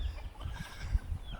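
Hens and cockerels cluck in an animal enclosure at a Somerset campsite, a steady mix of clucks and calls under rumbling low-pitched background noise.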